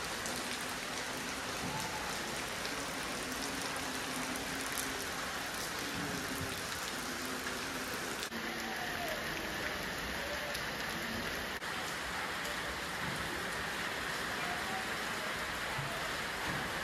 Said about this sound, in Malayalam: മഴ ചെയ്യുന്നുണ്ട്